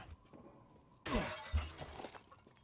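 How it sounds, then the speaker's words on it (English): A collectible container shatters with one sharp crash of breaking wood and glass in Resident Evil Village. It stands out loud against quiet surroundings, and a low thud and scattered debris follow. "smashing all of the collectible containers"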